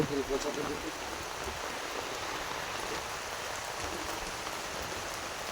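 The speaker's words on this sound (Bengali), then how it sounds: "বৃষ্টি পড়ছে বৃষ্টির মধ্যে এসছি ভিজে যাচ্ছি" Steady rain falls by a river, giving a dense, even hiss of drops that runs through the whole stretch at moderate level, with faint voices at the start.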